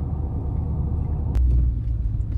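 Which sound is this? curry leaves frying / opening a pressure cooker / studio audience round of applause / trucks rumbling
trucks rumbling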